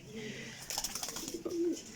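A pair of Salare and Jaldar breed pigeons coo close by, two soft throaty coos separated by a short pause, with faint background noise.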